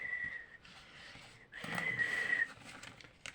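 A person whistles a few sustained notes, a short tone, a pause, then a longer wavering note, faint and close over a quiet room.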